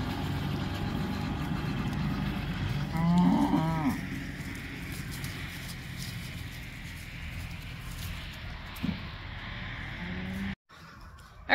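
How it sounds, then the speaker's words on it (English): Farm cattle waiting to be fed on a cold day before a winter storm, with a few moos rising over steady outdoor rumble and a distant engine, fairly close and moderately loud. "one of the last things we gotta do today is get the cows fed"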